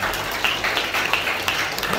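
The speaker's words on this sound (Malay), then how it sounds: "Bagi tepuk tangan yang dahsyat" A church congregation breaks into applause during a service, a burst of dense clapping heard under a speaking voice, moderately loud and sustained.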